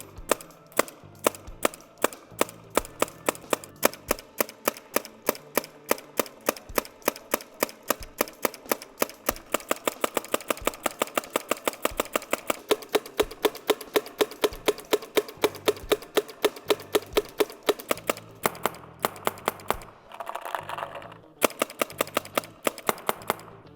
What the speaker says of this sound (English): I got my PAL on my EMEC, and yeah, I'm just gonna start shooting